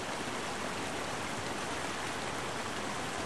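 Steady, dense rushing water of river rapids roars without pause, a loud broadband torrent close by with no voices.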